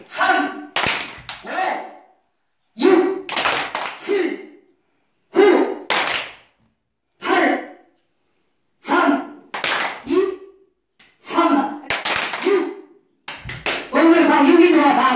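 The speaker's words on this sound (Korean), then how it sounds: "두, 이 숫자 얘기할 때만 박수를 치셔야 돼요" Sharp bursts of hand clapping in a 369 number-counting game, played as a brain exercise for dementia prevention. The claps come in separate clusters with pauses between them, and a group of voices talks over them.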